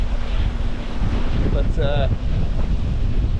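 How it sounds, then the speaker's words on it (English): Strong Force 8 gusts buffet the microphone while sailing solo on the Sound of Jura, a constant rough roar of wind and water, close and heavy, with a voice speaking briefly over it. "I was so not prepared for it being as windy as it was"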